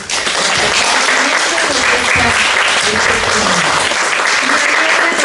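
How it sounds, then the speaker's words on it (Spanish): A colloquium audience in Mexico applauds its speakers with loud, close, sustained clapping that stays thick and even from start to finish. "darle un fuerte, fuerte aplauso a nuestros ponentes"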